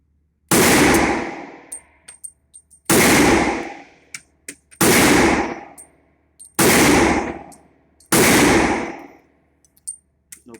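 Five loud, sharp pistol shots from a Smith & Wesson M&P chambered in .357 SIG, spaced about two seconds apart, each with a long ringing decay and faint metallic clinks in between.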